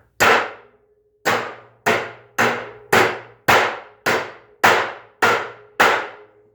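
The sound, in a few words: framing hammer driving big nails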